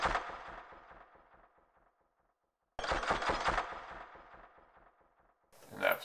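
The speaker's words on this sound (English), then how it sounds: "I also added some gun sounds that go throughout the beat that sound like this." Gun sound effects woven into a hip-hop beat, a run of sharp rapid percussive bursts, then a pause of near silence before another dense volley of shots and a brief loud hit at the end, with no talk.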